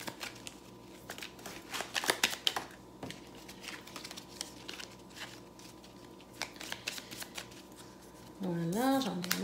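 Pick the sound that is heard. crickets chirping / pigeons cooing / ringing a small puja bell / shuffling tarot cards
shuffling tarot cards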